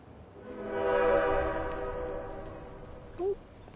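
A train arriving in the video game Bendy and the Dark Revival, with a rising horn-like tone swelling and fading over rumble, plus a brief higher chirp near the end.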